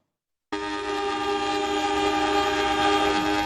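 An 80-ton railway locomotive hauled by a ten-person team in a pulling contest in Yogyakarta, carrying a loud, steady horn-like tone with strong sustained harmonics that starts abruptly and holds to the end.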